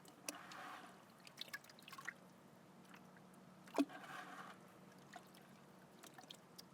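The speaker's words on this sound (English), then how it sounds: "I'm just going to kind of mush this with my hands in the water" Hands squish and mush wild clay in water, soft wet slaps and drips, faint and intermittent with one sharper splash midway, no talking.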